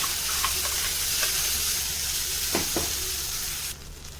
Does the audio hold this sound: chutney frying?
yes